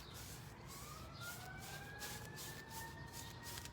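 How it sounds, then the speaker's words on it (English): Emergency vehicle sirens wail outside at a distance, rising and falling in long sweeping tones over steady background noise, no one speaking. "It wouldn't be a live show without some sirens"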